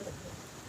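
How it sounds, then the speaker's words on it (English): Rain and distant thunder outside a hiking trail shelter on the Appalachian Trail, a faint low rumble under a steady wash of rainfall, brief and with no speech. "you can see that it is raining, and you can also hear that the lightning and thunder are out there too"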